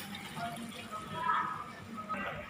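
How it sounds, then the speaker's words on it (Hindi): A cup of water is poured into browned vermicelli in a home kitchen, making a soft, steady splashing and sizzle for a few seconds, fairly faint, with a slight swell midway. "अब जो है वक्त है इसमें पानी ऐड करने का, तो मैं इसमें ऐड करूँगी 1 कप पानी।"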